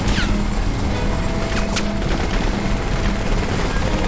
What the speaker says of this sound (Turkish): Üstümde helikopter.